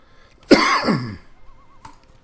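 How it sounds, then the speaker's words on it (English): A single rough cough or throat clear from a man playing a Magic: The Gathering Arena match, close and sharp, followed by a faint short catch a moment later. "Sorry for my coughing."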